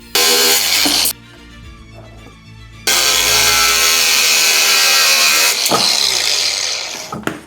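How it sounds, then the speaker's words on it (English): An angle grinder cuts threaded rod in a small workshop, producing a loud sustained high whine. It drops off briefly, spins back up into a long harsh cutting roar, and then winds down at the end. "while cutting the threaded rod with the angle grinder, the weirdest thing happened"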